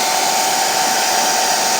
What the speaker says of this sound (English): Not close as I have it right here at the hair dryer